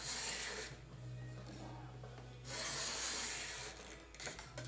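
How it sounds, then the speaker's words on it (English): Card scraper with a sharp burr cutting fine shavings from a hardwood frame-and-panel hall table, two bursts of soft, close scraping strokes separated by a quieter pause, with a low steady hum underneath. "You can see I'm getting nice shavings with the card scraper, so it's nice and sharp for me."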